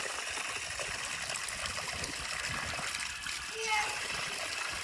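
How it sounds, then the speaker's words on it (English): A small public drinking fountain in the old town of Montepaone trickles and splashes steadily, a thin, continuous stream of water heard close by under light background noise. "Look at this little cute water fountain"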